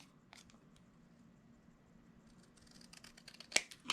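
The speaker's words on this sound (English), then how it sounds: "I'll take my scissors and I'm just going to trim" Scissors snip through a scrap of craft paper during trimming, a few faint cuts building to one sharper, close snip near the end in a quiet room.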